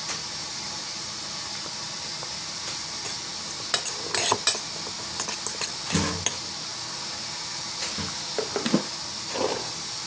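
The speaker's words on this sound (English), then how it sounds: "So I mix my seasonings in." Seasonings, including strong black pepper, being stirred into deviled egg filling in a bowl: soft scraping and tapping of a utensil in short clustered bursts over a steady faint hiss, close and moderately quiet.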